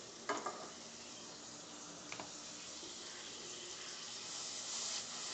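Reserved water poured into sizzling dal makhani masala in a kadai brings a steady hiss of frying, with a few brief clinks and splashes early on. The sizzle swells slightly toward the end, close and fairly quiet.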